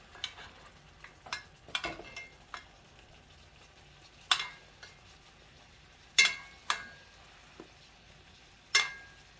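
A ribeye steak fries in a pan with a faint, steady sizzle beneath the cooking. Scattered sharp ticks and clatters, like a utensil on the pan, mark the basting. No one speaks.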